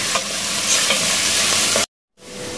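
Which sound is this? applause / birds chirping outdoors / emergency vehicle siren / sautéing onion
sautéing onion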